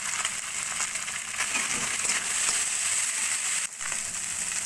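Fish fried in hot oil with garlic and chillies gives a steady, close sizzle with crackling and spitting throughout, briefly dipping near the end, with no voice over it.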